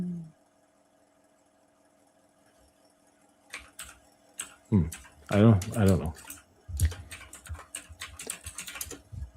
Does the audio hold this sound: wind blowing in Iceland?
no